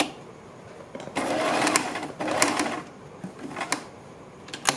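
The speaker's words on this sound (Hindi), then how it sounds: "फिर वापस हमें यहीं पर इसके ऊपर सिलाई लगानी है" A sewing machine stitches a side-dori kurti in two sustained whirring runs, then several short bursts, close and fairly loud with no talk.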